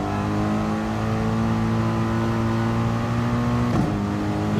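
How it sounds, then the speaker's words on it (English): A car in the Gran Turismo Sport racing game holds a steady, droning high-rev engine note during wet-weather wheelspin, loud and continuous with a short blip near the end. "Relax, it's just wheel spinning."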